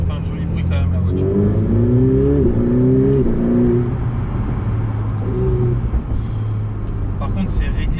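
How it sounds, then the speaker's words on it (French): Ferrari 488 Pista engine blipping through downshifts, with rising and falling revs that swell and drop over a steady cabin rumble while people talk throughout. "quand on rétrograde, elle fait un joli bruit quand même la voiture."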